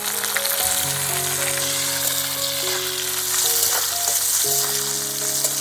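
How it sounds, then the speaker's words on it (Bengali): Onions, tomatoes and dried red chillies fry in a pan with a steady, close crackling sizzle that runs unbroken throughout, with a faint tonal hum beneath it. "পেঁয়াজ টমেটো সব ভাজা হয়ে গেছে"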